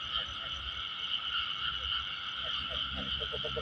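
Frogs croak in a dense chorus over a steady, high insect drone, with quick pulsed croaks growing more distinct toward the end.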